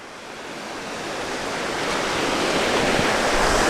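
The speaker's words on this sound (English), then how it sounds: "and the waves are really kicking up." Steady roar of surf washing onto a bay shore at Whitefish Bay in Michigan's Upper Peninsula, a broad rushing hiss that swells louder toward the end, with no voices.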